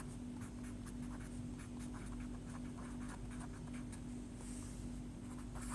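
Faint scratchy strokes of writing on a board during a grammar lesson, short soft bursts spread over a steady low hum.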